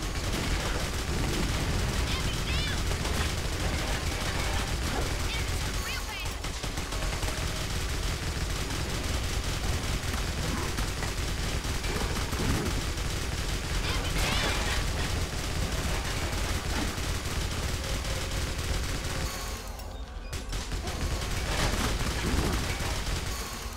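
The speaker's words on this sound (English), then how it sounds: "Who is bombarding us?" Relentless bombardment and gunfire in the video game Clive Barker's Jericho, with dense bursts and booms packed into a loud, unbroken wall of combat noise.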